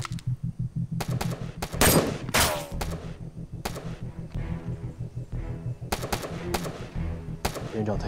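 Gunfire at a military shooting competition among special forces soldiers, rendered as repeated sharp shots in bursts and single cracks over a steady low hum, loud and close, with the spacing between shots uneven.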